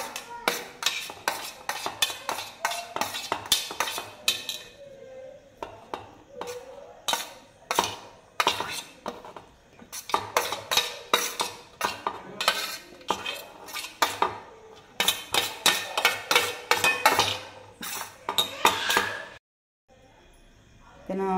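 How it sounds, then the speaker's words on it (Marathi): Tomatoes diced finely with a knife, giving a long run of quick, sharp chopping taps on a board, close and busy, stopping near the end before a short quiet gap and a final burst. "आता टोमॅटो बारीक, जेवढी जास्त बारीक चिरता येईल ना तेवढी बारीक चिरायची"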